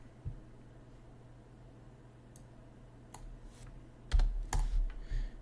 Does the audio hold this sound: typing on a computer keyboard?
yes